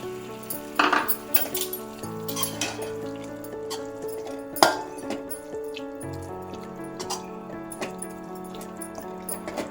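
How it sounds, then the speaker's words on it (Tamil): Milk poured into carrot halwa in a pan and stirred, with clinking spoon-on-metal scrapes and soft sizzling, close and moderately loud without talk. "இந்த பால் வந்து ஊற்றி நல்லா கலரிக்கலாம்."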